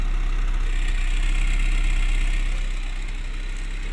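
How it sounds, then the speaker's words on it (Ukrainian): A car engine idles steadily with a low, even rumble and a faint rhythmic pulse, occasional ignition misfires, softening slightly toward the end. "От така робота мотора."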